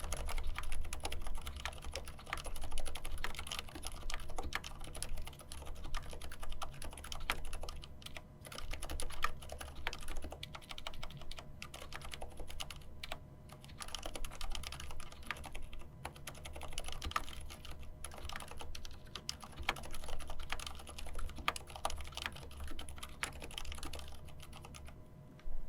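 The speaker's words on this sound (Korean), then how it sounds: "네 번째로 저소음 적축입니다." Steady typing on a Mars Pro MK3 mechanical keyboard with silent red switches, soft muted keystrokes running continuously at close range, fairly quiet, with no voices.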